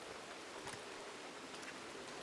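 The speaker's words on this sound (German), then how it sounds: "Mittags 11 Grad und Regen." Steady rain falling in the open-world video game Red Dead Redemption 2, a continuous even wash of drops spread across the whole stretch, with no voices over it.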